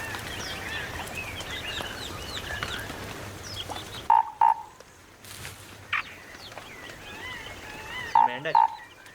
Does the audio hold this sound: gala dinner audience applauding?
no